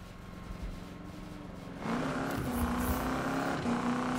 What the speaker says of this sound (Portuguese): Mas o som do motor dele é legal.